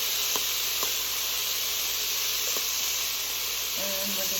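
Diced onion and a spoonful of garlic sizzle in a pan with leftover oil from browned meat, a steady loud hiss running throughout with a few faint clinks of a utensil.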